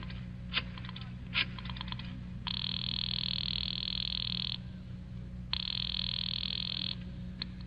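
An old-time radio drama telephone sound effect from a 1943 thriller broadcast: two long, steady electric ring bursts with a pause between them, preceded by a few short clicks like a receiver being handled, over a constant low hum.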